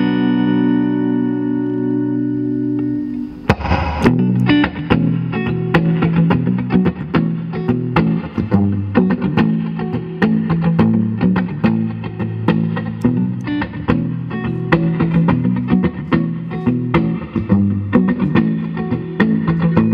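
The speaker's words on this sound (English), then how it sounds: "we're also going through a Fender Deluxe Reverb 67, starting off on that neck pickup." A sustained electric guitar chord rings out from a 2017 Gibson Les Paul Classic on the neck pickup through a Fender Deluxe Reverb tube amp, then a warm, reverberant riff plays continuously with strummed chords and picked notes.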